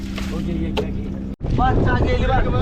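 Strong gusting wind buffets a small boat out on the water during a storm with light rain, a steady loud roar broken by a brief dropout midway, with voices talking over it.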